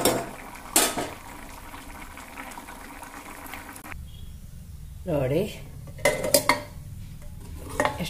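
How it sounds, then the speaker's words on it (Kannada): Cucumber curry simmering in a pot of water, a soft bubbling behind clattering utensils and pot knocks, while a person speaks briefly nearby. "ಎಷ್ಟು ಚಂದ ಕುದ್ದತಿ."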